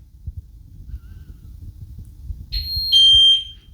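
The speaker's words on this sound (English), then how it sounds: "Once the wash is finished, it will continuously beeping until you open the door" End-of-cycle beep from a Miele WWD320 washing machine: a faint low hum, then two close, clear electronic tones, the second a longer, steadier high beep.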